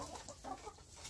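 Chickens cluck in an indoor coop and run with a roost, several short, close calls overlapping in a busy, steady chatter with no talking.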